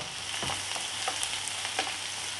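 Finely chopped onions sizzle and crackle steadily in hot oil, with soft stirring scrapes now and then, no voices.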